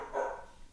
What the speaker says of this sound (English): Dog's barking in the background because I'm ignoring it.